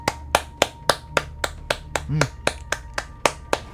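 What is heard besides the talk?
clapping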